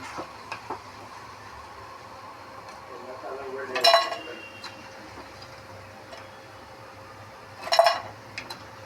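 Fried onion pakoras being moved from the pan into another bowl: faint clinks and scrapes of utensil on metal, with two louder clattering bursts a few seconds apart over a quiet room.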